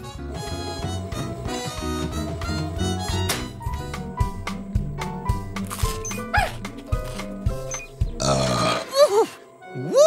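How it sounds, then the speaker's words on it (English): A big cartoon burp from a children's animated show, a loud, long rumbling belch near the end, heard over bright music and playful voices. "That was a big burp"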